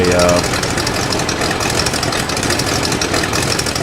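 Rotary aircraft engine of a World War I plane in the flight sim Rise of Flight, a steady loud running drone with dense broadband noise throughout, briefly overlapping a short tonal sound at the start.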